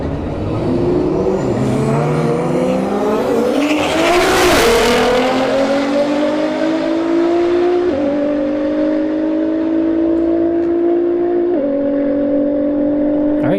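A Nissan GT-R and a Toyota Supra launch in a street drag race at a motorsports park, a loud engine roar with a brief burst of tire noise, then rising pitch through distinct gear shifts as they pull away.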